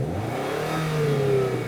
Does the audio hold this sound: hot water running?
no